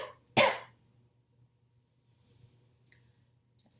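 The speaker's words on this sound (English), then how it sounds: "And now cough into your sleeve 2 times." Someone in a quiet yoga session coughs into a sleeve: one sharp, close, muffled cough stands out, followed by near silence with a low hum.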